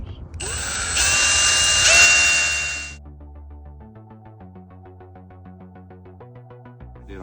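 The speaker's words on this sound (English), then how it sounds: "get one of these exterior decking screws, and screw it in" A power drill whirs for about three seconds, driving an exterior decking screw into a freeze plug on a 1987 Firebird Trans Am engine, loud and close, then stops, leaving faint background tones.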